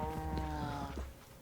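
A Minecraft cow gives a low, drawn-out moo close by, one sustained tonal call lasting about a second before fading.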